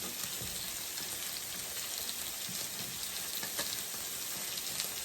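A large pot of seafood boil bubbling hard, a steady, dense crackle and hiss, close and even throughout, with no voices.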